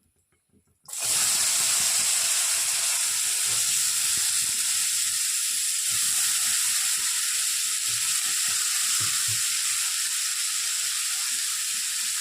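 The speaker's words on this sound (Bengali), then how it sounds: "ফোড়নের গন্ধ, হালকা গন্ধ বেরোলে আমি আলুগুলো ছেড়ে দিচ্ছি" Small-cut potato pieces dropped into hot oil with tempered spices, a sudden loud burst of sizzling after a quiet second, settling into a strong, steady hiss with faint crackles that continues to the end.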